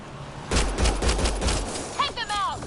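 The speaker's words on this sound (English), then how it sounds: "They shot him!" Bursts of gunfire from Mass Effect Andromeda, a rapid run of loud close shots in the first half, then a voice speaking over continued combat noise.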